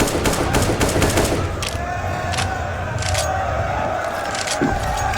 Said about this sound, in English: Double spray down from Dupree